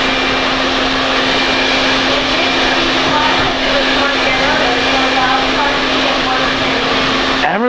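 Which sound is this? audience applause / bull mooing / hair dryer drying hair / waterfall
hair dryer drying hair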